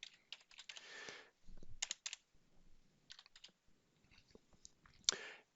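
Quiet, close keystrokes on a computer keyboard come in irregular bursts of rapid clicks separated by short pauses, ending with a sharper tap.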